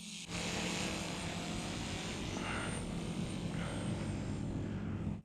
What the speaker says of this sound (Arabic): هقلع بسرعة جدا وهحول للطيران للأمام، يعني نص للأمام، وهطير بسرعة جدا